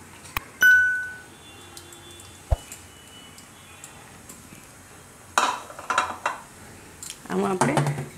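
A large metal vessel is set down and handled in a home kitchen while curd is prepared for a Rajasthani curd and papad curry, with a sharp clang, a few scattered clinks and later bursts of scraping and rattling.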